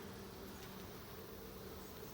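Bees from a small five-frame colony on pulled hive frames, giving a steady, close, even drone that holds without a break.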